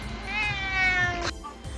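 Several cats meowing together in overlapping, drawn-out calls like a small chorus, close and loud, with no talking.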